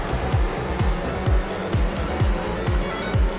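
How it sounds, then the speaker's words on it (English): Late model race cars roar through a turn at Kingsport Speedway, engines revving in a steady repeating rhythm as the pack sweeps past loud and close, with no voices over the racket. "Terry Welch led our JB Towing Pier 4s into turn number 1 with Stephen Watts quickly moving into the top 3"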